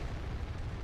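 A plane bursts into flames after a single cannon hit in War Thunder, a dense low rumbling blast filling a short, steady burst of explosive noise.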